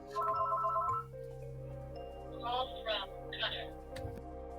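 A house phone rings and an answering machine picks up: electronic ring tones at the start, then a recorded voice speaking over a steady hum.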